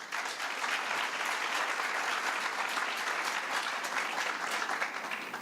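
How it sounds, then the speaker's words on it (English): An audience at a business leaders forum in Tanzania gives a sustained round of applause, a steady wash of many hands clapping at a moderate distance, even in level and without speech. "So please give them a round of applause."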